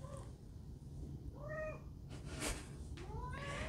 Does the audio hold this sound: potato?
no